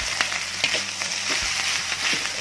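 Spicy nasi goreng with seasoning being stirred in a frying pan, a soft continuous sizzle with repeated light scraping strokes of a spatula, moderately close and without talk.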